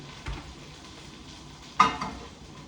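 Eggs frying in a pan with chorizo and vegetables make a soft, quiet sizzle, broken by a couple of brief scrapes and a louder stirring clatter near the end.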